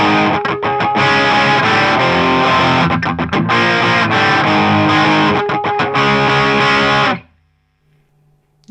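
Electric guitar with heavy distortion playing a riff, loud thick power chords strummed in a choppy rhythm with brief muted gaps, then ringing off into near silence at the end.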